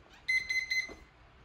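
Three short electronic beeps in quick succession from a Kwikset Powerbolt 2 keypad deadbolt, locked, after the master code is entered, clear and close in a quiet room.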